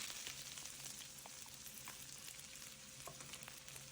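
Onion frying in a wok of rippling hot oil for a Filipino chicken and noodle dish, a steady close sizzle with faint crackles and light stirring clicks throughout, no talk.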